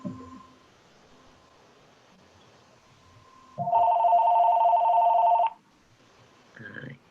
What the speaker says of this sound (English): My home phone's ringing.